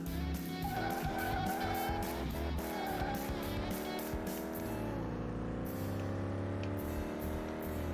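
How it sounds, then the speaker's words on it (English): A game car engine in Car Mechanic Simulator 2018 revving hard against the rev limiter, a fast stuttering buzz of cut-outs over a steady roar, heard alone. "We're hitting the limiter."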